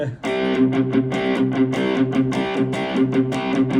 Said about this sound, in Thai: เสียงแตกมันจะหนามาก ๆ